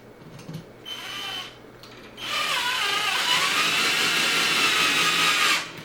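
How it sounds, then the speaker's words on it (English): A power drill fitted with a Phillips bit drives screws into an electrical outlet, with two short whirring bursts followed by a longer, louder sustained whine that stops abruptly near the end. "Let me use the Phillips bit on this actually."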